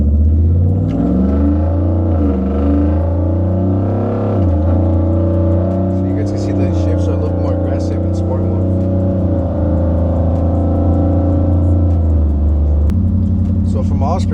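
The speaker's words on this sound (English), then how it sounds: "the second I step on it, the truck just reacts" A Ford F-150 pickup truck engine rumbles and climbs in pitch as it accelerates, with gear changes along the way, loud and close, while someone talks over it.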